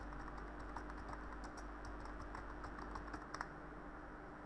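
Fast, steady clicking on a computer keyboard while text is entered into a map search, close and fairly quiet, with a few brief bursts of louder keystrokes near the end.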